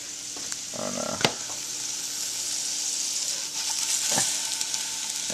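A homemade stir fry sizzles softly in a pan, a steady low hiss broken by a couple of sharp utensil knocks and scraping stirs, close by with no voices.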